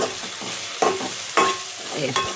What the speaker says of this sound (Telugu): ఇప్పుడు మంచిగా కలుపుదాం